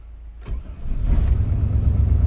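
A car engine running on E85 cold-starts at fifty below zero, with an exhaust leak under the hood. After a short crank it catches and settles into a loud, rough, low rumble close by.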